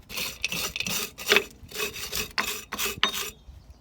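A Mk2 Ford Focus drum brake part is scrubbed clean by hand without brake cleaner, giving about eight close, rasping rubbing strokes in an uneven rhythm with short pauses between them.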